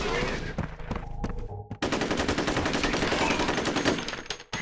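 Rapid automatic gunfire from the first-person shooter F.E.A.R., with dense sustained bursts and single shots ringing out close and loud, briefly broken by a pause before the firefight resumes.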